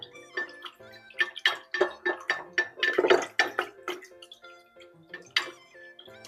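Melted homemade scented candle wax stirred in a container, giving a quick run of close, clinking taps and scrapes in a steady rhythm, fairly loud with no talking.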